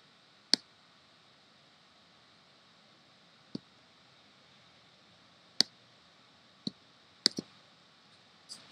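Quiet, sparse clicks of a computer mouse during work on a Scratch project, about seven sharp isolated taps spread unevenly, a few close together near the end, over faint background hiss.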